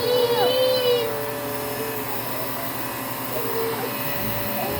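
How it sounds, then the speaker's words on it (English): A vacuum cleaner, run by a small child over cinnamon roll crumbs at home, hums steadily throughout at moderate volume, with a brief voice heard at the start. "What were you vacuuming up? Your cinnamon roll?"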